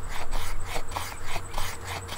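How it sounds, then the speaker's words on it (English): The spine of a knife scrapes steadily along a piece of fatwood, raking off fine shavings in a regular rasping rhythm, close and fairly quiet, with no talking. "I'm getting some good scrapings with the spine of my knife here on this fat wood"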